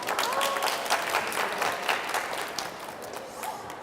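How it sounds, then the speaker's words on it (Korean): An audience gives a busker a warm round of applause at a campus busking event, a dense, steady clapping for about four seconds that eases off slightly at the end. "다시 한번 또 큰 박수 부탁드리겠습니다"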